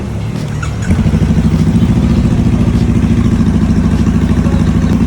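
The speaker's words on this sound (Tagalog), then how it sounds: "papatakbuhin natin konti para mag-bond yung flashing natin dun sa oil, tapos tumaan dun sa buong makina" A Honda Rebel 500 motorcycle engine runs steadily after an oil flush, starting quieter then settling into a loud, close, even idle with a rapid pulsing beat and faint mechanical clatter.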